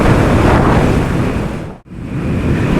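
Heavy rushing wind buffets the microphone while riding a 2021 Moto Guzzi V7 Stone Centenario edition, a loud continuous roar with one brief dip before it resumes.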